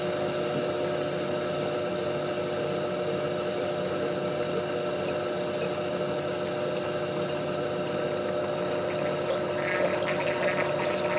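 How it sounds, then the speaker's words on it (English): The power steering pump of a Land Rover 300Tdi, filled with ATF, runs with a steady mechanical whine and hum. The noise is constant and close, with a slight change near the end and no voices. "Can you hear the pump? That's the pump making that noise."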